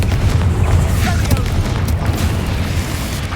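Hogwarts Legacy's Confringo blast spell makes a heavy, continuous booming roar with a deep low rumble and crackling texture throughout, loud and close.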